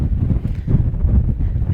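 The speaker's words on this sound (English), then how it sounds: "We had a big gust of wind and a small dirt storm here in Haysville." A strong gust of wind buffets a microphone at a ballpark during a dirt storm in Haysville, a continuous loud rumbling roar with no talk.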